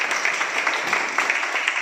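An audience at a meeting gives a steady wash of dense clapping throughout a brief moment, fairly loud and close, with no distinct voices.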